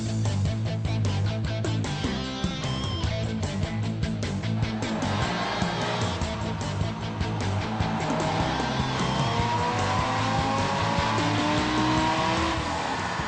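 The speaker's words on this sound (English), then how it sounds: "our 2010 Camaro project car that's got Stage 2 supercharger on it" A supercharged 2010 Chevrolet Camaro project car with a Stage 2 supercharger roars steadily throughout, with loud rising engine revs, tire noise and a sustained acceleration pull, no talking.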